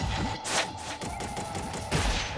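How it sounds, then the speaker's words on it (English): A spear gun fires in Ninja Gaiden Black, a run of sharp, loud shots and bursts in quick succession over the continuous game soundtrack. "Now I can go back to my spear gun."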